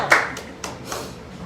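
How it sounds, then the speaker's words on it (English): A few separate hand claps, close and sharp, spaced apart over a brief moment, with a faint voice underneath. "A round of applause for"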